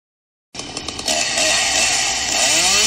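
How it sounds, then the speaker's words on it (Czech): A chainsaw starts abruptly after a moment of silence and sputters briefly. It then settles into a loud, continuous, buzzing roar that holds steady at close range. "A co s tou motorovkou budete dělat?"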